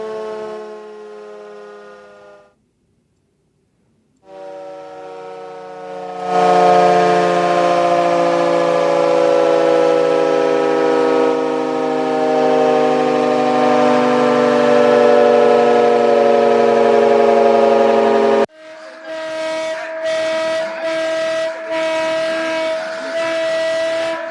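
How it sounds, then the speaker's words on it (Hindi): A loud civil defense siren for a mock drill in Rajasthan wails steadily, its tone holding then shifting, followed by a pulsing, stuttering siren pattern at the end. "सायरन सुना आपने, इस तरह की आवाज़ आएगी आपके कानों में"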